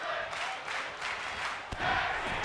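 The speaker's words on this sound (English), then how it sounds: "As the crowd chant for tag team wrestling." Wrestling arena crowd chanting for tag team wrestling, a rhythmic swell of many voices at a distance, with a single sharp thud partway through.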